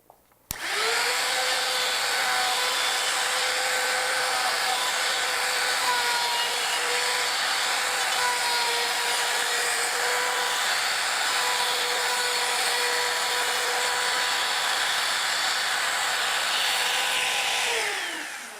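Router fitted with a 1/8 inch bit rounding over rough wood edges, a loud sustained high whine that starts abruptly, holds steady with slight pitch dips under load, then spins down at the end.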